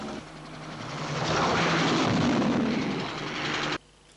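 Helicopter from the 1963 film From Russia With Love, a steady broadband engine and rotor drone that swells louder through the middle and cuts off abruptly near the end, with no talk.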